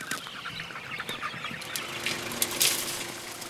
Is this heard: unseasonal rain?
no